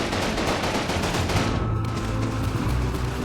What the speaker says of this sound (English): After a few bursts of machine gun fire, no retort was forthcoming from the lone enemy sharpshooter.